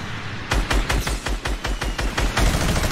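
A minigun fires in the Fortnite battle royale game, a fast, evenly spaced stream of loud, heavy shots rattling continuously after a brief quiet start, close and dominant with no talk.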